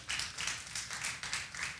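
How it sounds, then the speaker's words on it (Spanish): A church congregation applauding, a brief burst of rhythmic clapping in even pulses, fairly close and with no talk over it. "Dale un aplauso al Señor."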